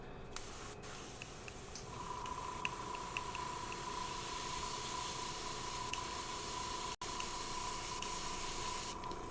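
An airbrush sprays a coat of paint onto a Wu-Tang custom piece, a steady close hiss running almost unbroken, with a faint tone underneath and one brief cut near the end.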